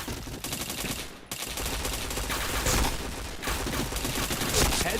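Dense rapid gunfire fills a mobile shooter game, with continuous automatic bursts and a short gap in the middle, fairly faint overall.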